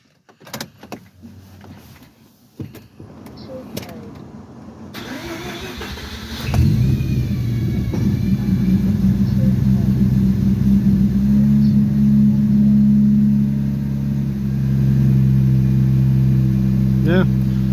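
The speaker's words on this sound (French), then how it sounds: "Allez, démarrage." A Mazda RX-8 with a newly replaced oil pan cranks and fires up after a few seconds of handling noises and clicks. The rotary engine then settles into a loud, steady idle with slight shifts in pitch, and a voice is heard early on.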